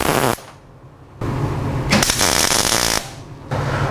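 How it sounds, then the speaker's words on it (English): MIG welding a brace into car tubing: bursts of harsh crackling arc noise start and stop, with loud stretches from about 1.2 to 3 seconds and again near the end, separated by quieter pauses. "Alright, so it's time to weld our first brace in."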